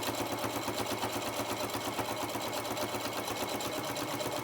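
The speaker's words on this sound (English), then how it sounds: "I always sew the open side first so I can get that secured" A sewing machine stitches steadily along the open side of a lanyard, with a fast, even mechanical whirr and needle clatter running without pause, close and fairly quiet.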